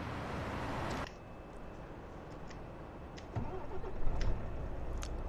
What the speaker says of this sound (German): das altgewohnte Motorgeräusch wieder